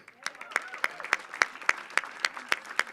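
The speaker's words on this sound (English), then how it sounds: "I do want to just give another round of applause for all of our city leaders that walked today." A small audience applauds city leaders at a Walk to Work Day event, with a few distinct claps landing in a steady, almost even rhythm and little crowd noise behind them.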